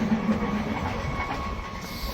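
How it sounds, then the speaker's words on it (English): A little train passing across the river in northern Spain, a steady close rumble with faint clickety-clack and no voices. "I'm gonna go get on that little train, across the river."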